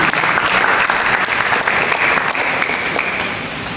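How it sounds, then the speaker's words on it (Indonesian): A church congregation applauds during a sermon, a dense, steady wash of clapping from many hands that fades slightly toward the end. "Berikan tepuk tangan bagi Yesus Kristus."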